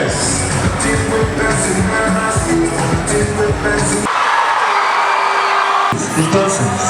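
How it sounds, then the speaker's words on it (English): A Nigerian ceremony audience claps, cheers and whoops loudly and steadily, with shouts rising throughout. A brief stretch of bright, dense clapping without the lower crowd noise follows, then the cheering resumes. "Please continue to clap for him."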